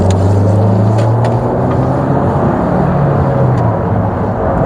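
A Rover 820 Vitesse drives along with a loud, steady engine drone and road rumble heard from inside the cabin, the pitch sliding down slightly as it eases off.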